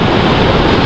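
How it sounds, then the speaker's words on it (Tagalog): Big ocean waves roll and crash along a beach in a steady, loud, continuous surf roar with wind rushing across the microphone and no voices. "Dahil malalaking alon"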